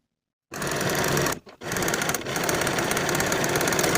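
A sewing machine finishes the outer edges of fabric pocket pieces, starting abruptly and running loud and close with rapid steady stitching, a brief pause midway, then continuing at speed.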